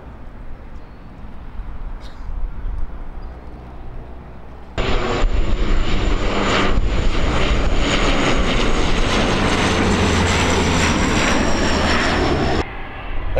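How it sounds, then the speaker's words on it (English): An airplane near Patricia Bay roars past at close range, starting as a distant engine hum, then abruptly swelling into a loud, steady propeller drone that holds for several seconds before cutting back down. "there was plenty of airplanes to watch"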